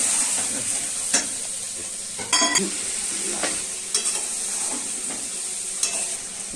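Cauliflower and egg curry being stir-fried in a pan, with a steady bright sizzle and several sharp scraping stirs spaced through it, close and fairly loud, with no talk.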